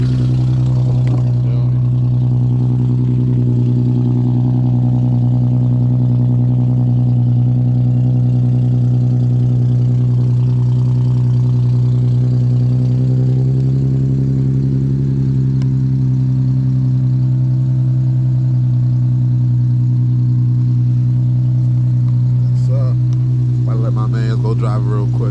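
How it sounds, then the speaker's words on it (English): A car engine idling after a cold start, a loud steady low drone held close for the whole stretch with a slight pitch change midway, and people talking over it near the end. "Cold start."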